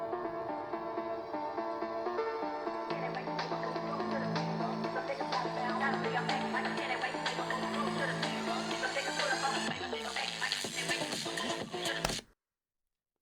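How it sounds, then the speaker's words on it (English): A Surface Pro 8 tablet's 2-watt stereo speakers play back music at half volume for a speaker test. The layered track is heard fairly quietly and steadily, then cuts off abruptly near the end. "Speaker test on the Surface Pro 8 versus Surface Pro 9."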